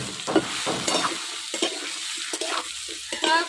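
Soybean chunks are stirred into hot oil with fried potatoes, making close, uneven sizzling with repeated scraping stir strokes and bursts of crackle; no one speaks over it.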